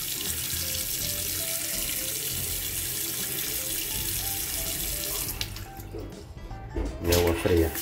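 Water runs steadily from a Moen Darcy kitchen faucet being tested after installation, a broad continuous rush that is loud throughout, while a person talks over it; near the end the flow shifts and splashes unevenly.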